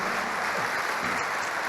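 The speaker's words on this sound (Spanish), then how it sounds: "Fuerte el aplauso entonces" Applause from the audience at a sports leadership summit fills the room, a steady continuous patter of clapping that is moderately loud throughout the short burst.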